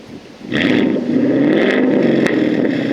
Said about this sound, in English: Emily, go ahead and rev it up.